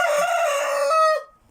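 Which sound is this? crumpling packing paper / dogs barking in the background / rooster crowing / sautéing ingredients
rooster crowing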